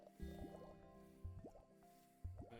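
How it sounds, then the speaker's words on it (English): Sulfur bubbles in the Tethergeist video game pop in three short wet, dripping bursts about a second apart, squishy and gurgly against a quiet game background with no talking. "Going through some of those sulfur bubbles."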